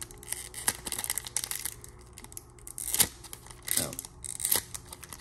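Foil wrapper of a Pokémon Celebrations trading card booster pack crinkling and tearing as it resists opening, several sharp rips and rustles close up, with a brief spoken word.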